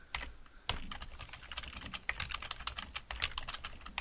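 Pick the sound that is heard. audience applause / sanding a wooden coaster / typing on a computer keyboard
typing on a computer keyboard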